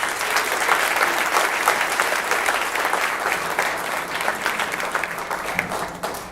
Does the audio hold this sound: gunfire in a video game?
no